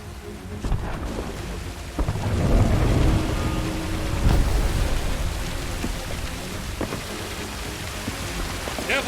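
Lightning strikes and thunder crack against a stone spire in a video game, with a loud booming rumble swelling near two seconds and again around four, under a steady rain-like wash that continues throughout.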